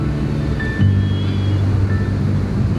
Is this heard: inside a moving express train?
no